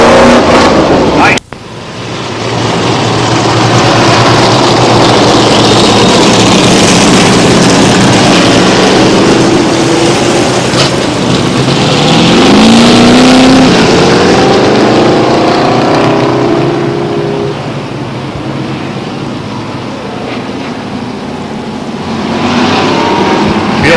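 Street stock race cars at Star Speedway roll onto the track for the night's final feature, engines droning and rising and falling in a loud, continuous rumble beneath an announcer's voice over the PA.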